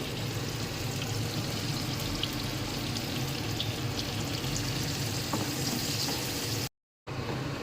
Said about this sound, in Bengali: তো আমি এখন পেঁয়াজটা টমেটো এগুলো একটু ভাজা ভাজা হয়ে গেলে তারপর আমি মশলা দিব।